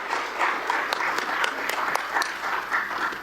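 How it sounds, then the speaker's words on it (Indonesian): An audience applauds a government minister at a parliamentary commission hearing, steady clapping from a crowd heard at a middle distance, with a few sharper individual claps standing out. "Boleh kita beri tepuk tangan kepada Pak Menteri."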